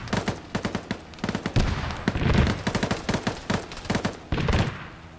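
Heavy gunfire in the Arma 3 military game during an airborne rescue, dense bursts of rapid automatic shots and loud cracks filling the whole stretch with barely a pause.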